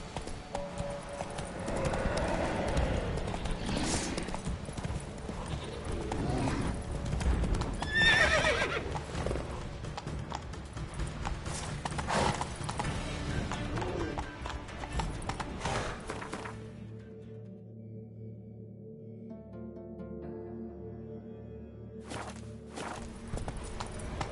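Roach, a horse in a video game, trots with steady clip-clop hoofbeats and lets out whinnies, moving close by for most of the stretch before the hooves fade and the scene turns quieter near the end.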